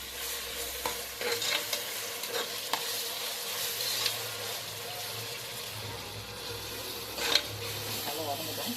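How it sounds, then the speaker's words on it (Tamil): Ginger garlic paste for chicken biryani sautés in a pan with a constant soft sizzle, punctuated by a few scraping stirs of the spoon, fairly quiet and steady. "போட்டு வதக்கி விடுங்க"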